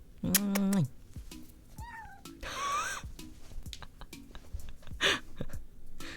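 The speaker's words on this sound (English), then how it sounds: "Did you hear my cat?" A pet cat lets out a short, bright meow near the start, loud and close, followed by rustling, scattered clicks and a soft high squeak, with talking underneath.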